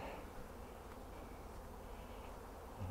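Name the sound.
bees buzzing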